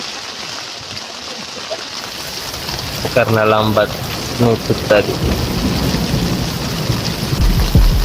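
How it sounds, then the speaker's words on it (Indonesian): Heavy rain pounds steadily on a tent on a mountain, with rumbles of thunder in the background and a person talking partway through. "Hujan deras di luar guys."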